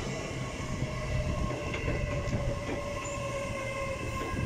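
A Class 802 IET train arrives at Didcot Parkway station on the Great Western Main Line. A steady, loud rolling rumble carries faint wheel squeal and tonal hum throughout.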